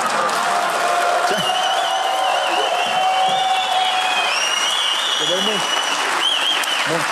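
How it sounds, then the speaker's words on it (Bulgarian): Sparse, hesitant applause from a television studio audience, with scattered claps and a few whoops over a steady crowd murmur and background music tones. "това са едни от най-плахите аплодисменти, които съм чувал"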